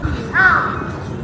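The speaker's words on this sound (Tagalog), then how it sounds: "Ang lakas ng boses ng uwak." A crow in Tokyo gives one loud, close caw that rises and trails off, standing out clearly over quiet background noise.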